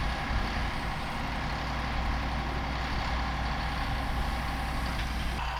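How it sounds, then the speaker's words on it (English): A farm tractor hauling hay runs steadily close by, with a loud, continuous diesel engine rumble and dense mechanical noise throughout and no talk. "All right, I got Tanya on the tractor."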